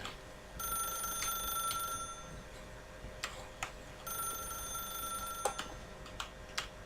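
A telephone rings in The Stanley Parable video game, two bursts of electronic ringing separated by a pause, with a few sharp clicks and taps between them and no talking.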